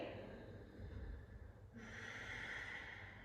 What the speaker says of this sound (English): And then we'll slowly take our last 2 breaths here.